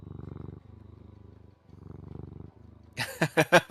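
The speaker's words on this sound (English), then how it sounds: "We hear cat purring." A cat purring close up in steady rhythmic rumbles, followed by a few short higher-pitched bursts near the end.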